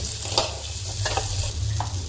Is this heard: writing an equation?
no